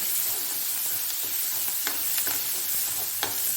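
Onion sautés in a pan with a loud, even sizzle close by, punctuated by a few faint ladle taps and scrapes.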